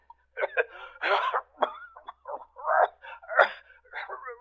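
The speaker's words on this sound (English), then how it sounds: "That's the bad cough he's got." A man coughs several times in a row, harsh and throaty bursts with short gaps between them, fairly close.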